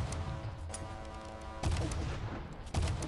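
Clockwork cannon gunfire in the video game Pixel Gun 3D: two heavy booming shots land about a second apart over a constant hissing game background.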